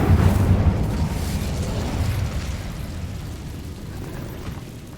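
The Incendio fire spell cast in the video game Hogwarts Legacy, a loud whooshing burst of flame at the start that rumbles and slowly fades over several seconds.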